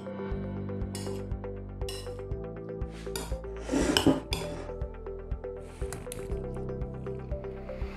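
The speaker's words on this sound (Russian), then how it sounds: "Добавлю укроп, немного оливкового масла и перемешаю." Dill and olive oil stirred into a side dish in a deep bowl, with a spoon clinking and scraping against the bowl and soft wet squishing of the mixed vegetables, repeated close up without talk.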